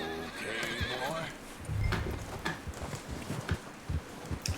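A horse in Red Dead Redemption 2 whinnies loudly at the start, followed by a burst of snorting and steady hoof clopping, with speech mixed in alongside.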